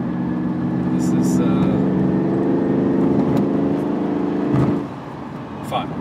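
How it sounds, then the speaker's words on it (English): A RENNtech-tuned Mercedes CLS drives quickly with a steady engine drone heard from inside the cabin, fading briefly near the end, while people talk over it. "this is an incredibly fast car"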